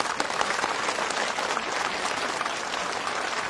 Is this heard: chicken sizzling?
no